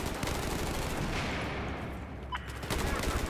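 Sustained gunfire from Battlefield 4 on the Operation Locker map, a dense, steady roar of automatic shots that fills the whole stretch without pause.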